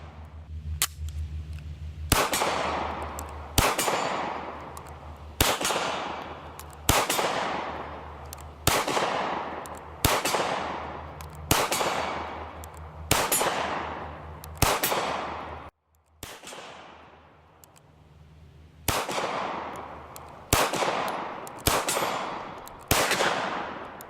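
A Steyr M9A1 polymer striker-fired pistol fires at an outdoor range, about a dozen sharp loud shots spaced a second or two apart, each trailing off in a long echo, with one brief pause midway.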